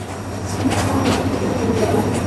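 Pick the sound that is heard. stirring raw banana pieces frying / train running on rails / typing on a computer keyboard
train running on rails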